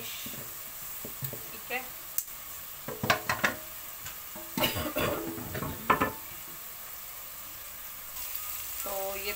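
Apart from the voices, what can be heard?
masala sizzling while frying in a pan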